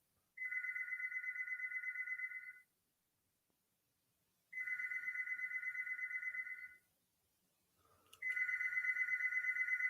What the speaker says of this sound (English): I'll call her and find out.